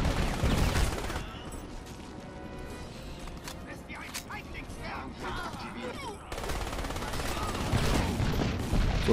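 Wild gunfire in Crysis rattles out as rapid, dense bursts of shots, loud and close, easing into scattered shots and impacts before another heavy volley.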